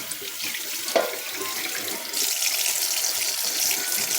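Cold water from a kitchen tap runs loudly into a sink over overcooked, stuck-together pasta. The steady close rush grows louder partway through as the flow increases.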